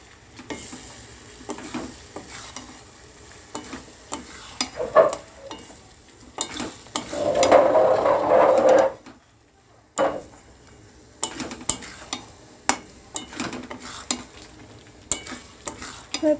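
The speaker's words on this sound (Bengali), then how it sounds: "ভালো করে কষিয়ে নেব" Mutton pieces being fried with masala in a pan over raised flame, stirred repeatedly with scraping and clinking strokes against the pot, with a louder sustained sizzle in the middle and short pauses between bursts of stirring.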